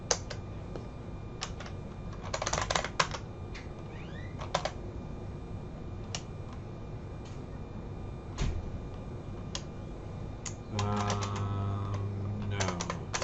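Keys on a computer keyboard click as a Linux command is typed, quiet scattered taps and short bursts in an otherwise hushed room, ending with a quick flurry of keystrokes.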